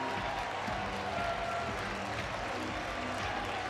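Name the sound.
baseball stadium crowd cheering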